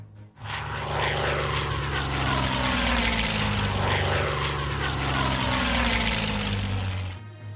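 A propeller-driven recon plane drones steadily overhead in the wargame Hex of Steel, a loud, sustained engine hum rising in quickly and holding for several seconds with no talking.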